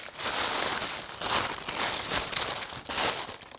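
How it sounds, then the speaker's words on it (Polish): Gucci-print wrapping paper crinkling and rustling as it is pulled from a box during an unboxing, loud and close in continuous bursts, with no voices over it. "Papier w Gucci print."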